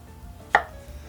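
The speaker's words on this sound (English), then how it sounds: "I'm just going to slice these up." A single crisp knife stroke slices through a mushroom onto a board while a mushroom sauce for steak is prepared, a short close tap that stands alone.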